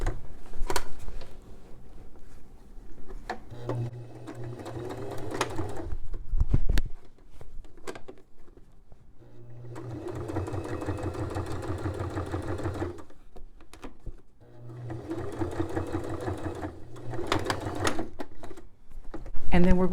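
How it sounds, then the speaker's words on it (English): A sewing machine top-stitches the waistband of a pair of pants, whirring in three distinct runs separated by pauses, with a person speaking throughout. "I'm going to do a top stitching from here to here where I stop pulling it out"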